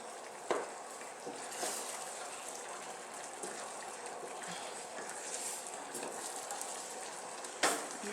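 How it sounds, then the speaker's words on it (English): A utensil stirs a flour roux for a lamb stew, scraping the sides and bottom of the pan with a steady, soft hiss and rustle and a couple of sharper clinks, close and fairly quiet. "You just want to make sure you're scraping the side of your pan, okay? And the bottom."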